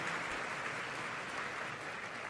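An audience at the Tri-Association's 37th Annual Educators' Conference at Carol Morgan School gives a round of applause, a constant dense hiss of many hands clapping that stays steady and fairly soft in a large room.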